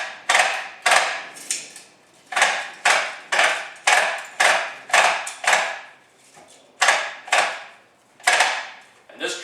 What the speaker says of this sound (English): As I turn this, it's pulling the line into the trimmer head and loading itself.